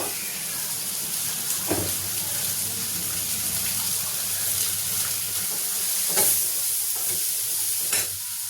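Onions sautéing with salt in a pan for a fish curry, a steady close sizzle with occasional spatula scrapes, fairly loud and without speech.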